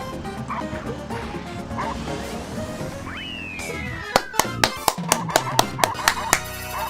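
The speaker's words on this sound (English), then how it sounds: "You hear him woofing right there?" A dog barks in a quick series of sharp woofs near the mic, rising over the sounds of a Mario Kart Wii race, with a voice talking underneath.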